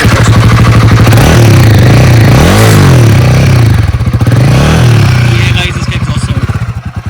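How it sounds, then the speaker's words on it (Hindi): Royal Enfield Guerrilla 450 motorcycle idling close to the exhaust, a loud steady low thumping beat with a couple of brief throttle blips, while someone talks over it. "अगर सुनना है फिर भी लास्ट सुना देते हैं, एग्जॉस्ट के पास जाके सुनाते हैं बिल्कुल"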